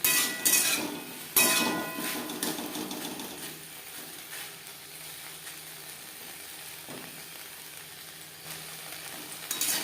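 Okra and potato stir-fried with green chillies over a high flame, starting with clanks and scraping of a utensil against the pan, then settling into a quieter steady sizzle with occasional knocks.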